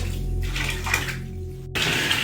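Hot water runs from a tap into a bathtub in a steady, close rushing stream that swells louder near the end, with a low hum beneath it.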